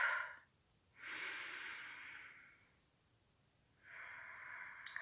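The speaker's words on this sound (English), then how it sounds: "A couple deep breaths in through the nose and out through the mouth." Two slow, deep breaths, drawn in through the nose and let out through the mouth, close and soft, each a long airy swell separated by a quiet pause, with a third inhale starting at the end.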